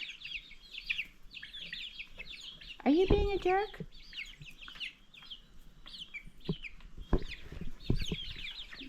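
Chickens cluck and chirp throughout, with a louder squawking call in the middle and a person speaking briefly over the birds.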